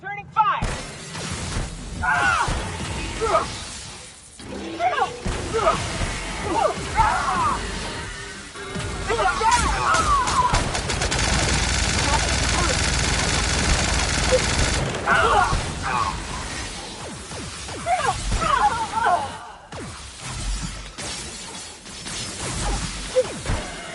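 Rapid gunfire bursts and impacts during a firefight in The Outer Worlds, with crashes, whooshes and mechanical clatter mixed with game voices speaking over the action.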